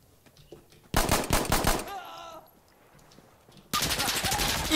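Rapid machine pistol fire in Insurgency Sandstorm, two loud close bursts of quick automatic shots separated by a quieter gap with a brief mechanical rattle, the second burst running to the end.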